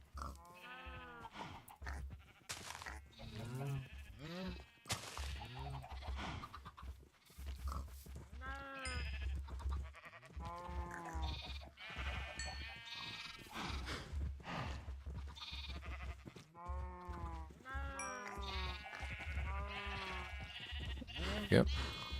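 Blocky Minecraft sheep bleat repeatedly, along with grunting pigs, in a game world near an abandoned village, the calls coming in frequent overlapping bursts while players keep chatting throughout.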